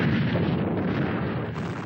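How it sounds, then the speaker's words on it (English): Long-range communist artillery opening an attack on a besieged base during the Tet offensive, a dense, continuous low rumble of heavy fire with no distinct separate blasts. "Communist long-range artillery spearheads the opening attack"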